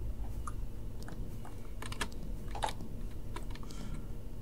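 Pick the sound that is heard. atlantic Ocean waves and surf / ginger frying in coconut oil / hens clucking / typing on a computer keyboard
typing on a computer keyboard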